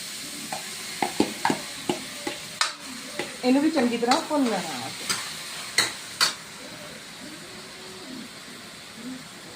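Onions and tomatoes fry in a pan for rajma masala, a soft steady sizzle broken by clattering stirring strokes and scrapes of a spoon against the pan, with no one talking.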